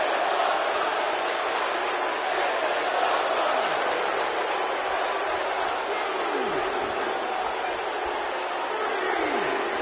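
Crowd in a wrestling arena during a WWE match involving The Undertaker: a dense, constant roar of many voices, loud and unbroken, with shouts and swells throughout and no clear individual words.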